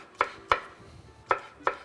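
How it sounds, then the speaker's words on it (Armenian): A knife slices green beans diagonally into thin sticks on a cutting board, making four crisp, separate chops in an uneven rhythm, close and clear with no voices. "լոբին կտրատել շեղակի 45 աշճանի տակ բարակ"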